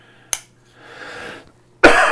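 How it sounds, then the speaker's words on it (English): Two sharp coughs, one brief and one louder and harsher near the end, separated by a soft hiss, close to the microphone. "I haven't coughed away from the microphone and the camera"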